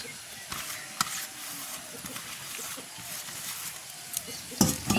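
Thick batter is hand-mixed with fried onion and green chilli in a village kitchen, giving soft irregular scraping and squelching strokes at close range with occasional sharper knocks.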